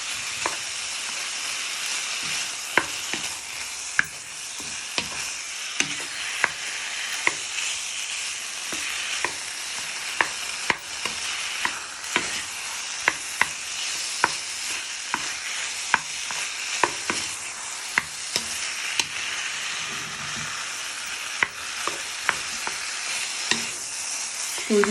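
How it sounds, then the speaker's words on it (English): Chicken with herbs and seasoning fries in a pan while a wooden spoon breaks it up, a continuous sizzle punctuated by frequent sharp spoon knocks and scrapes against the pan. "So we're just going to fry these for 3 to 5 minutes"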